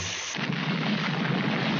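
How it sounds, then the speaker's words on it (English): Cartoon explosion effect from a 1966 Underdog episode: a loud, continuous roaring blast with a rumbling low end that sustains for the full length without any talk. "That explosion really smashed you up."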